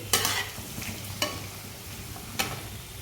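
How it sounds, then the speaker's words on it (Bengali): Vegetables shallow frying in oil in a pan, with a steady close sizzle and three sharp spatula scrapes or stirs at intervals. "সঙ্গে আমি সবজিগুলোকে শ্যালো ফ্রাই করে নেবো অয়েলে"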